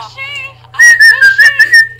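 During a Disney-themed theatre game, someone whistles a tune, producing a quick run of loud, close, bright notes.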